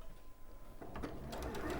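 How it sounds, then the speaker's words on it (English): Domestic sewing machine stitching quilt pieces for a squirrel-print quilt, a faint rapid needle patter starting after a quiet moment and building into a short steady run. "We're just going to sew these up."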